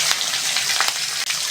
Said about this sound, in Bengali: ওই তেলের মধ্যে কালো জিরে ফোড়ন দিয়ে দেবো